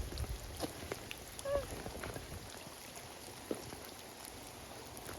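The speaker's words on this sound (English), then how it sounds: "look how pretty with a nice rainfall" Rain falls steadily through a forest, a soft continuous patter with scattered drips and a few faint knocks in the background.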